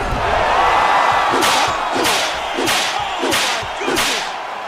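Arena crowd at a UFC fight night roaring and cheering after a knee lands, a loud continuous swell of voices with several sharp surging bursts of noise.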